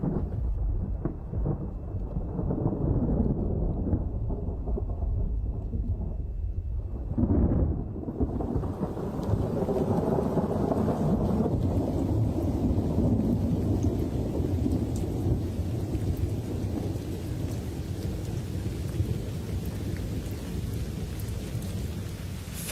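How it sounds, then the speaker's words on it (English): A thunderstorm rolls over the Kalahari, with a low rumble of thunder building and fading before steady rain sets in as a continuous, dense hiss that carries on to the end. "Finally, rain brings some moisture to the land."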